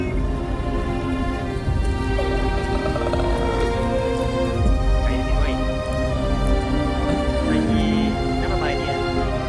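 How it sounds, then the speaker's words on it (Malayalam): Wind and rain in the Thekku Island video game form a steady, dense hiss with scattered patter, with tonal layers running underneath. "കാറ്റും മഴയായി."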